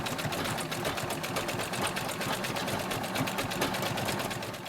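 A sewing machine zigzag-stitches a homemade shoe insert, running continuously with a fast, even mechanical chatter close by.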